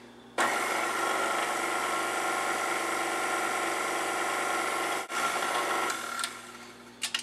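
Steady electric mixer whirring through lemon thyme bread batter with lemon juice and zest, a loud continuous motor drone broken by one brief pause before slowing and stopping near the end.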